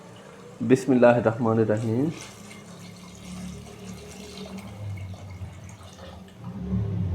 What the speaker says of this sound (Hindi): अभी हम इसके अंदर पानी डालेंगे